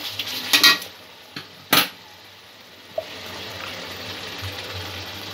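A few clinks and scrapes of a utensil against a pot while vegetables and spices are stirred together for a vegetable korma. The hits are brief and close, followed by a quiet, low background and no speech.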